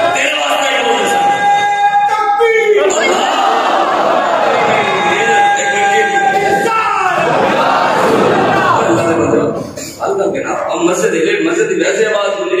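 A large crowd in a mosque chants religious slogans in loud, sustained unison, the voices ringing and echoing through the hall with rising and falling waves of shouting.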